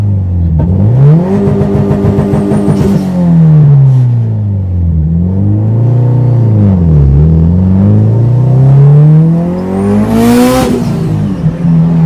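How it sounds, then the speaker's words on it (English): A Subaru WRX fitted with an Invidia N1 exhaust revs repeatedly from inside the cabin, the loud engine note climbing and falling in several sweeping waves over a steady rumble. "This is what it's like at revving."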